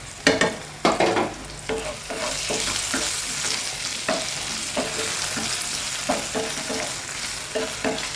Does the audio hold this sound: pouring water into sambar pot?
no